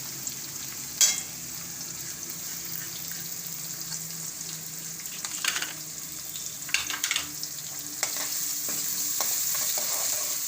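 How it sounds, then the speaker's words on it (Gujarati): Chopped onions frying in a pan for a cashew-garlic curry make a soft, steady sizzle that grows slightly toward the end. A few sharp utensil clinks and stirring scrapes sound close by, and no one speaks. "ડુંગળીને આપણે સારી રીતે સળવા દઈશું, એકદમ સરસ ગોલ્ડન થાય ત્યાં લગી"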